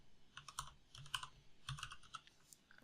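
Quick, light keystrokes on a computer keyboard, a short uneven burst of clicks, close and fairly quiet, with no talk.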